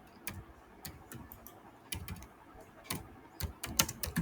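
Rapid, uneven bursts of keystrokes on a computer keyboard as Python code is typed, close and clicky, with short pauses between the bursts and no speech.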